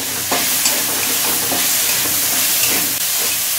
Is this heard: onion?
yes